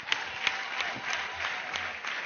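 A church congregation clapping together in a brisk, even rhythm, a short burst of many hands beating steady claps at moderate distance.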